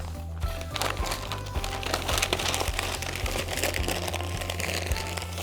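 Wrapping paper crinkles and rustles steadily as two sheets are folded around a lamp harp, close and busy, over a low constant hum.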